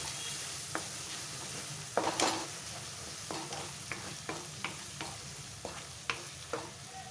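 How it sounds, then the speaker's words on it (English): Soft sizzling of masala frying in a pan for mutton keema, with a series of scraping stir strokes at irregular intervals, fairly quiet and close. "So as the masala is frying very well"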